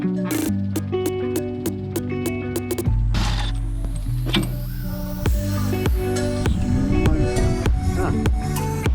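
A ratchet driving a 17 mm socket on a 3/8 adapter and two extension bars, loosening a stubborn Loctited bolt during truck bed removal on a Mk6 Hilux, with clicking and metallic mechanical noise that continues steadily and up close.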